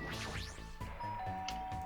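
Doorbell chime in the video game Danganronpa 2, a short electronic ding-dong amid layered background game music, fairly loud; no talking.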